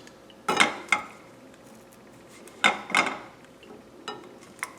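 French beans seasoned with pepper being tossed in a non-stick pan, a few separate clattering knocks and scrapes of pan and utensil spaced through a quiet background.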